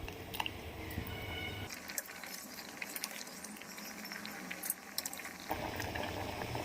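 Sweet potato pieces boil in a pot of water, giving a steady, close bubbling and light pattering that runs on throughout without any voices.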